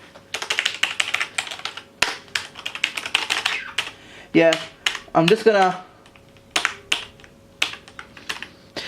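Fingers clatter steadily across a Logitech G810 Orion Spectrum mechanical keyboard, close and crisp with rapid irregular keystrokes, briefly interrupted by someone speaking.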